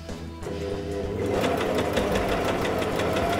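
Quilters Choice sewing machine stitching pink fabric, starting up and running in a steady rapid mechanical chatter close by.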